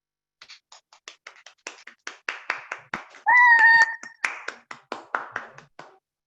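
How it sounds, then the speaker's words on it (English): A small audience claps in a round of applause, scattered individual claps building into a steady patter, with a brief high whistle-like tone in the middle. "Everybody, yes, round of applause."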